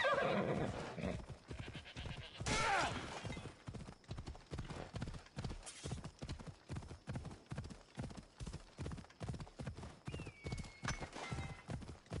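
Steady, rapid hoofbeats of a horse in a PS4 video game clop along for the whole stretch, with a loud horse whinny near the start and another neigh partway through.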